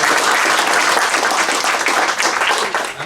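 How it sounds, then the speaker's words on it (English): An audience at a fireside-chat event claps in dense, sustained applause at full strength, tapering slightly toward the end, with no speech over it. "maybe we can give a round of applause to Kevin and CEDAS for a great job"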